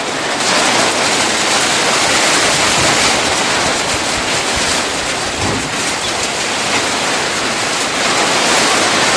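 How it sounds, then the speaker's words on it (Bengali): Strong cyclone wind roars with rain in a village, a dense, loud, continuous rush of gusting air and pouring water filling the whole clip with no let-up. "যে কী পরিমাণ বাতাস শুরু হয়ে গেছে"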